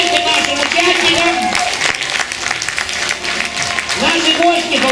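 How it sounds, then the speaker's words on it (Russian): Audience at a children's circus studio show applauds the performers, loud sustained clapping throughout with music and cheering voices mixed in. "Громкие аплодисменты нашим участникам."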